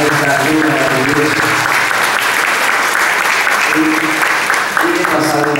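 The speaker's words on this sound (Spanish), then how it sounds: "Démosle un caluroso aplauso a nuestra maestra, maestra de maestra Laura Valdés." Crowd applauding a teacher at a public event in Moquegua, sustained loud clapping from many people with cheering and voices mixed in, continuing evenly to the end.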